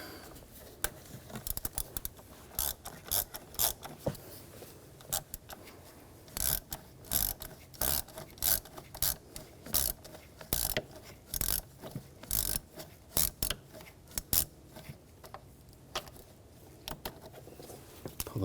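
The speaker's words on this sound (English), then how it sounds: "We're going to use a T25 socket. Take these screws out." Ratchet fitted with a T25 socket backing screws out of the 3.0L inline-six engine on a 2007-2013 BMW X5, heard as irregular bursts of sharp, close metallic clicking separated by short pauses, with no talking.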